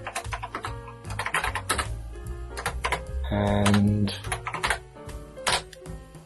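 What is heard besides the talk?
typing on repaired TI-99/4A computer keyboard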